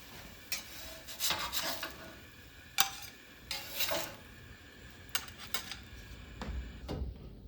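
A metal spatula scrapes melted food off a pan in a home kitchen, giving a series of short, close rasping strokes separated by brief pauses.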